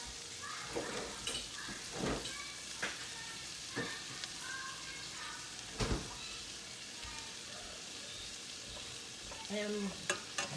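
Half a tablespoon of butter melting in a pan for a vegetarian breakfast, a steady crackling sizzle with occasional scrapes and taps of a utensil, close and unaccompanied by talk.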